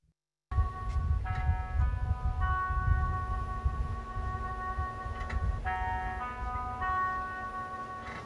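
A slow-moving electric school bus hums nearby, a steady low rumble with high tonal whines and chime-like tones rising and falling over it.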